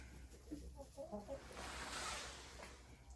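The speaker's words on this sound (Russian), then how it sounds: "Вот она, моя любимая курочка." A hen clucks softly in a series of short low calls near a coop, fairly faint, followed by a brief rustling hiss.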